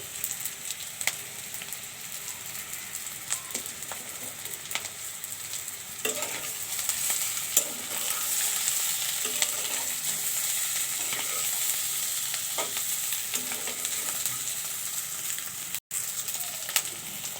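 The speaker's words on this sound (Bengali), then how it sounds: "এখন আমি এখানে কয়েক টুকরা তেজপাতা দিয়ে দিচ্ছি।" A few pieces of bay leaf sizzle steadily in hot cooking oil while being stirred for an egg curry, a continuous frying hiss punctuated by soft scraping and stirring taps.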